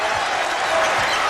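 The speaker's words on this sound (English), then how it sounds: "the Louisville fans stand and cheer this team from the Big East" Louisville basketball fans cheering and applauding in a packed arena during a Tennessee vs Louisville game, a steady broad roar of crowd noise throughout the short moment.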